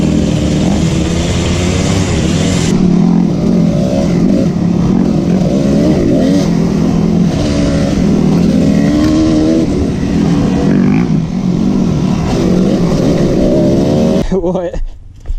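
A dirt bike engine runs and revs throughout, riders on a ride talking loudly over the steady motor, which cuts off abruptly near the end.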